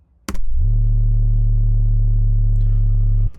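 A distorted sub-bass synth patch built in Serum with a fat effects rack plays a single sustained low note, deep and buzzy, starting abruptly after a short click and cutting off cleanly after about three seconds.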